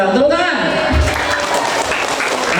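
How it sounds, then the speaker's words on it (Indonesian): An audience at a lighthearted sermon by K.H. Rowi claps after a call for applause. The clapping is dense and steady, with a voice overlapping it at the start. "Tepuk tangan"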